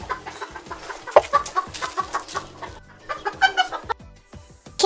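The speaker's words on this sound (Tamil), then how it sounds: "கோழி கொக்கரிக்கும்." A hen clucks repeatedly in quick, uneven bursts of short, clipped calls, mixed with softer chatter from nearby fowl.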